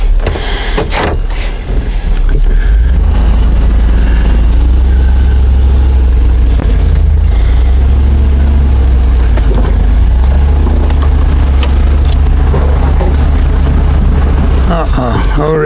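An old red truck strains on a hill, its engine droning loud and steady with a low, rising rumble as the wheels spin, after a few clunks and rattles at the start.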